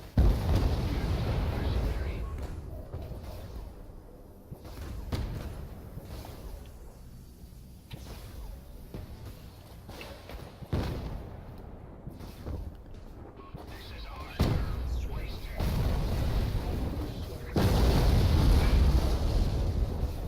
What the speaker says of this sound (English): Let me give my turret something else to shoot at here.